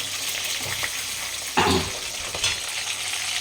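Fish frying in hot oil until reddish, a steady loud sizzle with a few stirring scrapes and bursts of spatter close by, no voices.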